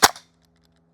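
A Double Eagle DWS Lupus gas airsoft gun fires a single sharp, snappy shot up close, followed by a quick short echo and then silence.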